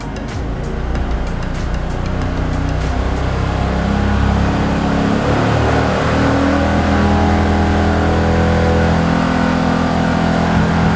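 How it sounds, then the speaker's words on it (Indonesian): A car engine revs up and holds near 5000 rpm during a charging-system voltage check, a steady loud mid-pitched drone lasting throughout with no talk. "Kita akan menaikkan putaran hingga mencapai 5000 rpm."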